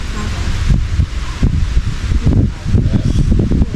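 Wind blows hard into the microphone outdoors, producing loud, low rumbling gusts and buffeting that rise and fall, with some indistinct voices mixed in.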